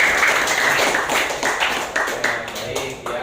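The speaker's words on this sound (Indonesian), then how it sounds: "tepuk tangan untuk kelompok 4" Classroom applause for a student group after their presentation, a dense patter of clapping lasting throughout, fairly loud and close, with some background voices mixed in.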